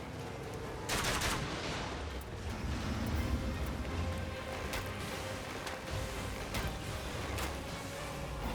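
Battle rifle gunfire in Elden Ring Nightreign, rapid bursts of shots over a dense, busy game soundscape, loud and close, with several sharp cracks spread through the stretch.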